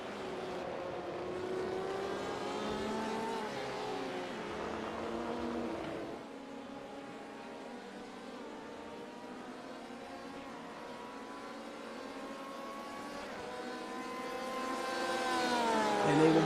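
Sports race cars pass along the main straight at Sebring during a racing championship round, a fairly faint whine of engines whose pitch sweeps as each car goes by, building louder near the end.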